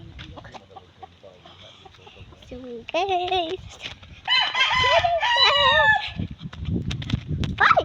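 A rooster crows and hens cluck nearby, calls rising and breaking off, with someone briefly talking and rustling in the background.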